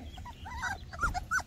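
Pet dogs whimpering and yipping indoors as they react to neighbors, a few short high whines in quick succession, fairly near and soft, with low background rumble.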